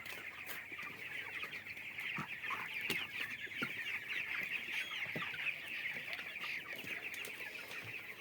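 Chickens cluck continuously in a rooftop broiler shed on a poultry farm, a dense, steady chorus of many birds at moderate distance with no voices over it.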